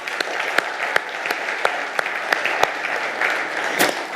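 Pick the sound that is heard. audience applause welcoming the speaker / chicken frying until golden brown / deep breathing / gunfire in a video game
audience applause welcoming the speaker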